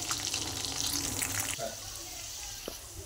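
Boiled potato dropped into hot oil with roasted green chilli, a steady broadband hiss of frying that settles after a brief drop midway.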